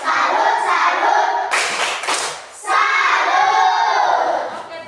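A classroom group claps and chants the 'tepuk salut' cheer together, loud and close, with rhythmic shouted syllables and a sharp burst of clapping in the middle.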